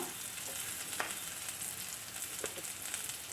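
Ginger and garlic fry in hot oil with a soft, even sizzle and a few faint stirring clicks, quiet throughout.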